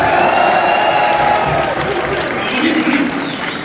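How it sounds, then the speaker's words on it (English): A Chicago audience at an evening event with UFC lightweight champion Khabib Nurmagomedov gives Usman a round of applause, thick steady clapping mixed with some cheering that holds loud throughout. "Give him a round of applause, guys."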